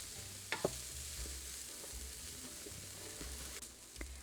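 Onion and sweet potato frying in a pan, a soft steady sizzle with a few brief clicks of stirring, quiet and close, no voices.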